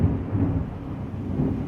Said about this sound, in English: thunder and lightning strikes all around the house